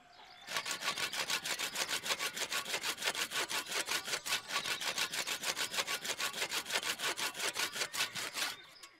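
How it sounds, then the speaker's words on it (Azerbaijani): A hand saw cutting through a tree, with rapid, even back-and-forth strokes in a steady rhythm for several seconds, close and rasping, alone without voices. "bax ağacı kəsirəm ha"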